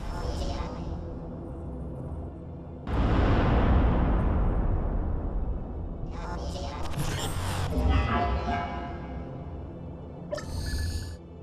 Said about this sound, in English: The Artemis is an artillery unit.